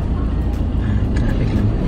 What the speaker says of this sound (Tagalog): Traffic lang po.